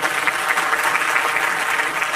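Sustained, dense audience applause at a live comedy show in a Hindi-speaking venue, steady and loud throughout with no gaps.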